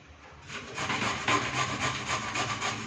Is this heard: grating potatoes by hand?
yes